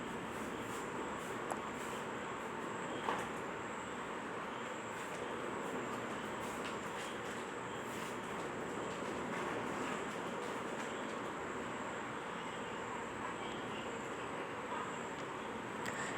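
A train passes through Angadipuram railway station in a steady, distant rumble that holds evenly for about sixteen seconds, with no voices.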